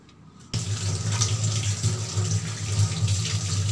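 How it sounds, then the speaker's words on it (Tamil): Brass idols being rinsed under a running tap, a steady gush of water splashing into a sink that starts abruptly and continues alone, close and fairly loud. "இப்போ விக்கிரகங்களை நல்லா இது போல் கழுவி எடுத்துக்கலாம்."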